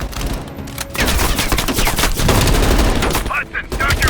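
Heavy machine gun fire in the Call of Duty: Black Ops Cold War campaign, loud rapid bursts that build after a brief pause and continue almost without break, with a short gap near the end.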